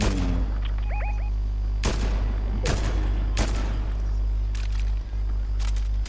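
Gunshots fired in the video game Fortnite, four sharp loud reports spaced irregularly with a few fainter pops, over a steady low drone.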